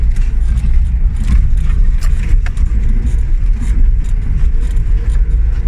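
A Lada Niva off-road vehicle pulls away over grassy terrain, its engine a loud, steady, low rumble with faint rattles and knocks on top.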